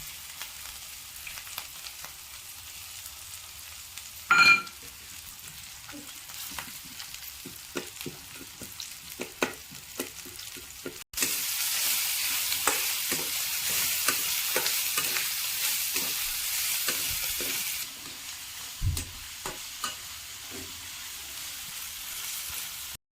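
Cumin and mustard seeds go into a pan of frying okra for a spicy bhindi masala, with soft stirring scrapes and pops that give way to a louder, steady sizzle partway through, ending with a few spoon knocks.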